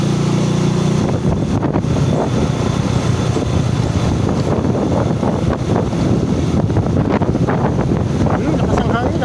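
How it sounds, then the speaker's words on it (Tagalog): Strong wind roars and buffets the microphone continuously while riding a Euro Rapido 110 motorcycle from Tagaytay to Talisay, Batangas, with the engine droning faintly beneath the gusts. "Lakas ang hangin."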